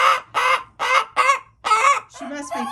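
A broody hen in a nesting box clucks loudly and close by in a run of about six harsh, drawn-out, almost honking calls with short pauses between them.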